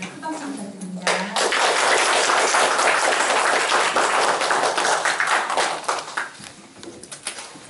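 A lecture audience breaks into sustained applause, a dense crowd clapping that swells after a short spoken introduction of the speaker and slowly tapers.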